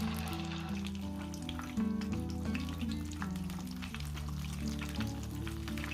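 Marinated chicken fries in a pan with a steady, close sizzle that runs the full length, accompanied by sustained tonal background music.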